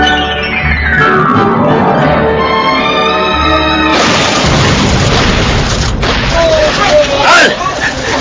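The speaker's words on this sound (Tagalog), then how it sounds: "Kanina pa tayo nagpapalitan ng putok." Gunfire and explosions in a Filipino radio drama battle scene, with loud booms and bursts crowding the whole stretch, growing denser and harsher in the second half under raised voices.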